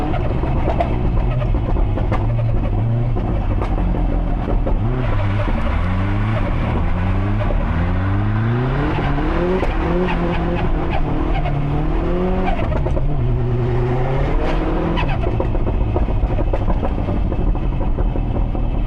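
A 470 hp Subaru Impreza STI with a big turbo revs hard from the cabin, its loud engine note climbing and falling through repeated gear changes with steady, close intensity throughout.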